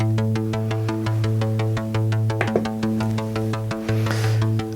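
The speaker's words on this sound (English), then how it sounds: "that that sound is connected to this Karplus strong synthesizer voice" Plucked string-like tones from a Karplus-Strong modular synth voice, triggered by a Euclidean rhythm, repeat in a steady pattern, bright attacks decaying quickly over a low sustained drone, with no voices.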